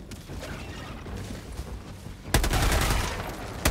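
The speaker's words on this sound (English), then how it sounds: "Shoot this guy in the head and reload." Helldivers 2 gunfire with a railgun: mechanical clicks and rattles of reloading, then a loud burst of rapid firing that stays dense and forceful to the end.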